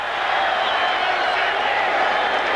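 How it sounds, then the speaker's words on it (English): Dense football crowd roaring steadily in Texas Stadium during a 1983 Raiders at Cowboys Sunday night game, a continuous broadband wash of cheering and applause with no single voice standing out. "Never heard a crowd like this in Texas Stadium."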